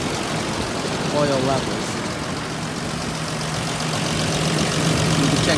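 A Toyota Land Cruiser FJ80 with the 4.0 3FE engine idles after an oil change, a steady, even low rumble with a faint hum running continuously beneath someone talking.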